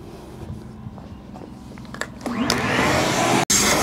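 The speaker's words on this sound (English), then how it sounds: "And I'm going to get the vacuum out here." A vacuum cleaner starts up partway through and drones steadily on stained carpet during a detailing job, its broadband roar rising and holding loud after a stretch of quieter handling noises.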